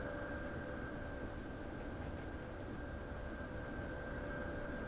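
An RE 50 regional express train on the Leipzig–Dresden line in Train Simulator, running at about 160 km/h. It gives a constant, loud rolling roar with a steady whine and no break from start to end.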